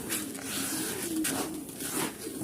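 Pigeons feed on scattered grain nearby, a dense continuous bed of soft pecking, rustling and low cooing with no voices.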